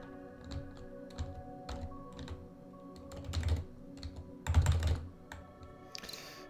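Computer keyboard typing at close range, irregular clicks and clacks with a few dense flurries of keystrokes, quiet and alone without talk.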